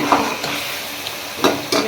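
Chicken pieces and masala being fried and stirred in a pan, a continuous close sizzle with a few sharper scrapes of the spoon against the pan, no voices.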